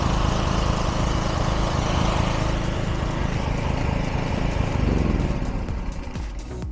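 Portable petrol generator, started on gasoline with the choke then closed, runs steadily close by with a dense, loud engine drone that eases slightly near the end; no talking.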